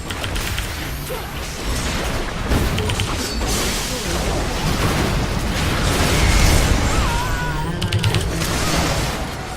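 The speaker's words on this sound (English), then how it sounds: "Your team has destroyed a turret" A turret being destroyed in League of Legends, a dense rumbling burst of explosive game effects with mechanical crunches and pops running for several seconds, under spoken game announcements.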